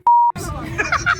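A single short censor beep, a pure steady tone lasting about a quarter second, followed by someone talking with some laughter in the background.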